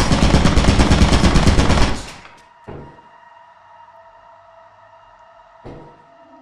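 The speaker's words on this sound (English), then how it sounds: "We went to fire exit and Nolan got shot by the turret" Turret gunfire in the video game Lethal Company, a loud dense burst of rapid shots that cuts off abruptly, followed by quiet humming and a couple of faint metallic knocks.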